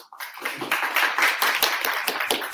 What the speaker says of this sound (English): I think he deserves a round of applause, please.